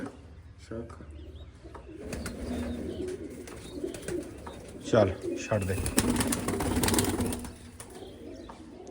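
Pigeons coo softly nearby, with a sudden flurry of flapping wings midway, while people talk over the birds.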